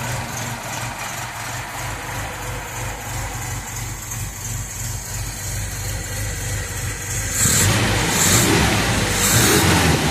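A restored 1966 MGB GT engine runs at a steady idle close by, a smooth, even hum that grows louder and busier toward the end as revs rise.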